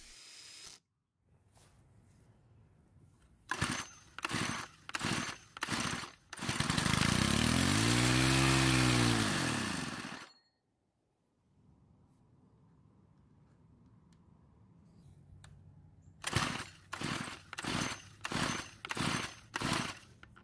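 A Stihl string trimmer engine with a valve lash problem is tried: a run of quick rasping recoil-cord pulls, a few seconds of loud engine sound that dies away, then a second burst of rapid pulls with no lasting start.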